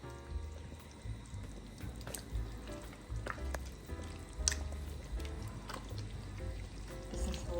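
Lecho salad simmers in a covered pot, a faint continuous bubbling and sizzling with small popping ticks scattered throughout.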